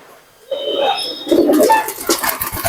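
An Assam pigeon pair, a hen and a cock with two young, coo close by in their loft, rising after a quiet start into loud throaty calls with some faint voices behind.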